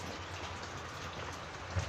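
Soft, steady patter of rain falling, a gentle continuous hiss with no voices.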